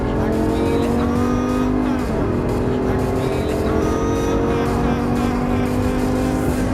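A Lamborghini Gallardo LP 570-4 Superleggera pulls hard on a Las Vegas racetrack, its loud, steady engine drone held close and continuous with little change in pitch as the throttle rolls on.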